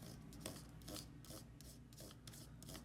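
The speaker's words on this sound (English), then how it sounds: "I'm gonna try to rub this SD card with tin solder." Tin solder rubbed against an SD card, a faint, quiet rasping scrape repeated in short strokes at a steady rhythm, close by with no talk.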